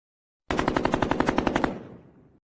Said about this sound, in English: The gunfire was intensifying, Penguin's men growing bolder